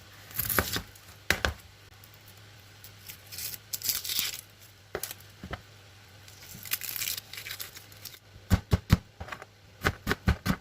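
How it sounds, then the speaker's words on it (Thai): A knife chops a large onion into small pieces on a board in bursts of quick sharp taps, some scattered and others in a rapid run near the end, with no talking. "หั่นหัวหอมจ้ะหัวหอมใหญ่ หั่นให้เป็นชิ้นเล็กๆ"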